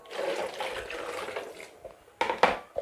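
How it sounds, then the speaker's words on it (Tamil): Tap water is poured into a vessel to soak dishes during Pongal cleaning: a steady rushing pour, then a few louder splashes and sloshes near the end. "இது ஃபுல்லாக தண்ணி ஊற்றிக்கணும்"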